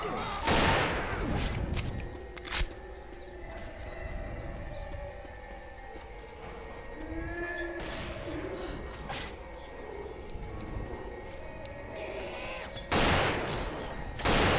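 Gunfire in the video game Left 4 Dead 2, with loud bursts of shots at the start and again near the end, plus scattered single shots over a steady background of game noise.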